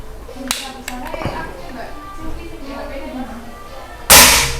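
Shots from a PCP Tiger air rifle ring out as several sharp, close cracks amid ongoing talk, ending with one loud, hissing blast near the close.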